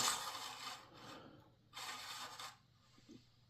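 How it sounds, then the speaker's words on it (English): Shaft for a wooden 21FE outrigger RC boat being cut in steady rasping strokes, two longer scraping passes with a pause between, then a small tap; close, moderately loud, no voices. "I've got to cut the shaft next and mount the motor"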